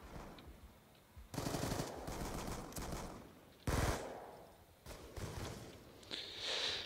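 Bursts of automatic gunfire in Call of Duty Black Ops 2 Gun Game, several sharp rattling volleys separated by quieter gaps, fairly close.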